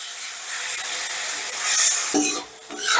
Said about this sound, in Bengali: এবারে চিংড়িটাকেও কিন্তু হাই হিটে ঝটপট ভেজে নিতে হবে বেশিক্ষণ ভাজলে চলবে না